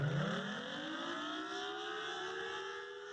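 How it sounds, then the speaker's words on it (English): A civil defense siren wails steadily during a monthly test in Champaign, its pitch sliding upward and then holding a sustained tone, loud and continuous with no voices. "This morning, Champaign EMA did their monthly siren test."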